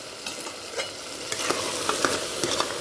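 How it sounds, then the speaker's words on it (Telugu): Curry masala frying in a pan, a steady close sizzle broken by several sharp scrapes and taps of a spoon stirring it, with no voices. "దీన్ని కూడా పచ్చివాసన పోయేదాకా 2 నిమిషాలు వేయించుకున్నాం ఫ్రెండ్స్"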